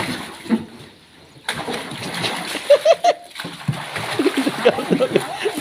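A playful elephant flopping over into water, sending up a loud splash and sloshing, with someone talking excitedly over the wet churning.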